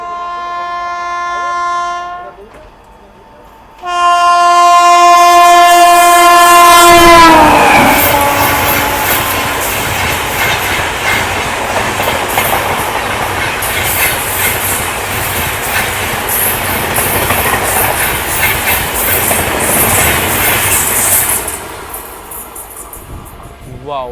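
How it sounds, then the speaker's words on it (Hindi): Indian Rajdhani express trains passing on a railway loop, starting with a long loud horn blast, then the heavy sustained roar and clatter of a passing train for many seconds before it fades. "दूसरी तरफ से आ रही है अगस्त क्रांति तेजस राजधानी"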